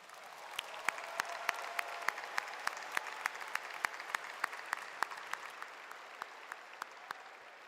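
Graduates applaud at a university commencement ceremony, a soft, wide wash of clapping from a large seated group with sharper individual claps standing out, steady at moderate distance for several seconds.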